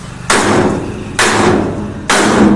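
A machine part made of pure iron is struck three times in a slow, even rhythm, each a loud, close metallic bang with a ringing tail.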